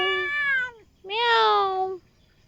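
A cat gives two clear, drawn-out meows close by, the second louder and rising, separated by a brief gap.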